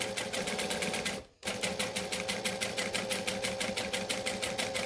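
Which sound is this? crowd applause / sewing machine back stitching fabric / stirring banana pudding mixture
sewing machine back stitching fabric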